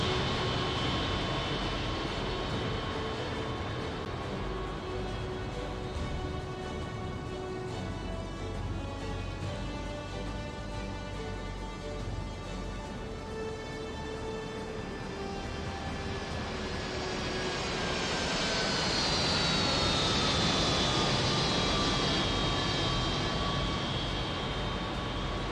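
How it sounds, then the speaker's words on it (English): Loud, sustained roar of Harrier jets' Rolls-Royce Pegasus engines hovering at an air show, with whining tonal layers that slowly rise and swell near the end, heard up close. "let's take a moment just to listen to the sound of these Rolls-Royce Pegasus"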